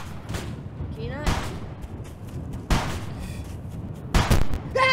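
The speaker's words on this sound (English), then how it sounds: "You shot me through the rock!" Video game gunfire during a fight with bandits, a handful of sharp separate shots spaced a second or so apart, with a voice speaking between and over them.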